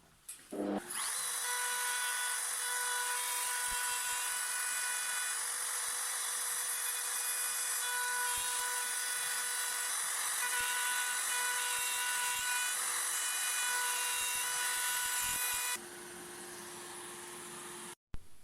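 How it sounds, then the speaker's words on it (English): A handheld wood router cuts freehand through a workpiece, producing a loud, steady high-pitched motor whine with cutting noise that runs continuously for about fifteen seconds before the pitch shifts and it winds down abruptly. "It's not every day you freehand route something in front of 2 million YouTube viewers."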